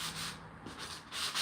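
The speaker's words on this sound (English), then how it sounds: "kind of just sanding this" Hand sanding a custom phone holder, a soft rasping rub repeated in short strokes, close and fairly quiet.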